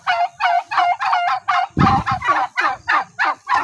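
Turkeys gobble in a rapid run of about a dozen harsh, rattling calls, close and loud, with a brief deeper overlapping call in the middle.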